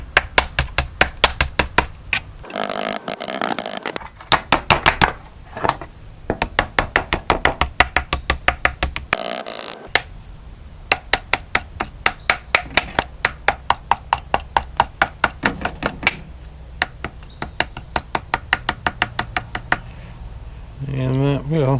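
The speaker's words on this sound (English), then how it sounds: "Take your all-peen hammer, and you can go around the edge." A ball-peen hammer taps repeatedly around the edge of gasket paper on a thermostat housing, a rapid string of sharp close knocks in bursts with short pauses between them.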